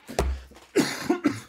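A few sharp, close coughs in quick succession, harsh and chesty, with short pauses between bursts and no talking.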